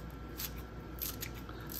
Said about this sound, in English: you can quickly and easily cut green onions